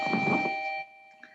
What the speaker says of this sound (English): We have doorbells.